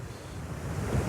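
Ocean surf rolling in along the central California coast, a steady wash of breaking waves that builds slightly louder toward the end, mixed with wind noise on the microphone and no talking.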